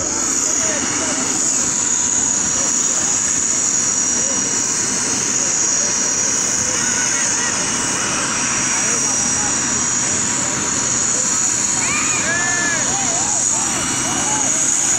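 A helicopter parked behind a fence at an outdoor event square in Propriá, Sergipe, its engine and rotor making a continuous loud whine under crowd noise and voices for the whole stretch.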